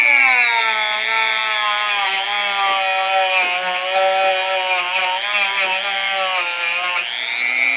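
Sanding an interior component with 180 grit sandpaper, a steady rubbing rasp that runs continuously and loud, close by, with a rhythmic back-and-forth texture and no talk.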